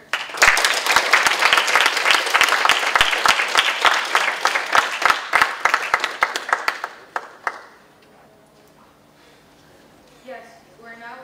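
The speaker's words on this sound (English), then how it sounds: "Clapping is in order." Delegates at a model UN session clap after a resolution passes, loud, close rapid clapping for about seven seconds that tapers off, followed by a quiet room and a brief voice.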